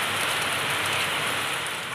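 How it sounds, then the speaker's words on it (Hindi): Heavy rain pours down in a steady, dense hiss of drops hitting surfaces, close and continuous, with no voices. "अभी अब ज़्यादा ज़्यादा बारिश बढ़ने लग गई है।"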